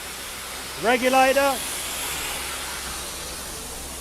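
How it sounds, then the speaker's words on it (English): Continuous steam hiss from an open cylinder cock runs steadily throughout, with someone briefly saying a single word over it. "That noise you can hear is the cylinder cock still open."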